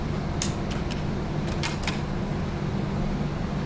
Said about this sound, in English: I know you guys love to hear the airplane